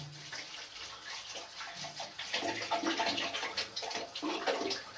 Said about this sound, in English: I'm washing my hands on the water that's coming from the boiler